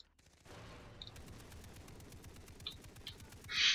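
Rapid gunfire from the video game Far Cry 3 rattles along as dense, continuous bursts at moderate loudness, with a louder burst near the end and no talking over it.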